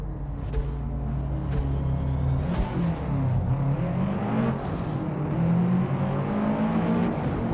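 Race car engine in Forza Motorsport revs hard at the start of a Builders Cup race, a loud continuous roar with rising and shifting pitch and no break.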